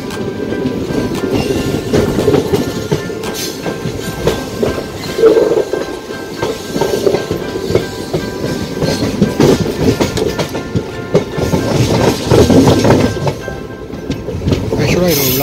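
Tiruchendur Express passenger train rumbling and clattering steadily from onboard a crowded weekend carriage, with rhythmic clickety-clack, wind noise and a voice talking over it throughout.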